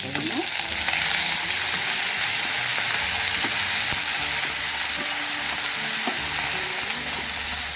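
Cut raw banana pieces fry in a pan of onion and spice tempering with a continuous loud, close sizzle, broken by repeated scraping and clinking as a spatula stirs them.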